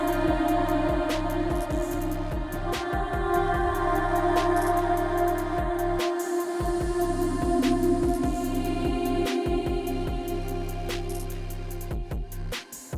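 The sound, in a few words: sampled vocal hook with Fruity Convolver reverb and Portal effects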